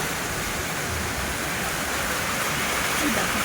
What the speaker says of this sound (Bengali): তখন খুব সুন্দর বৃষ্টি পড়ছে ঝমঝম করে